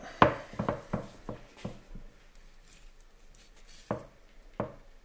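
A knife works through fresh pork belly to remove the rind, a run of sharp cutting thuds in quick succession followed by a pause and two more isolated cuts, close and fairly quiet.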